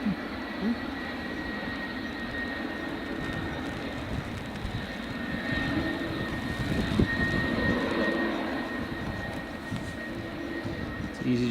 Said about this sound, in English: It's the 757 just starting its engines.